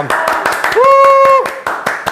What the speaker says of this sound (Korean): 우리 고프라긴 프리께 박수.